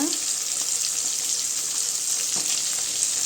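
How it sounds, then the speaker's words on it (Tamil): Sardines frying in a pan give off a steady, dense sizzle with a bright, even hiss that holds throughout, close and moderately loud, with no talking. "மீன் நல்லா வேகட்டுங்க"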